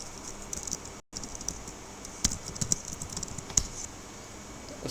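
Close-up typing on a computer keyboard enters login details, with soft irregular keystrokes, a brief dropout near the start, and a few sharper key presses standing out.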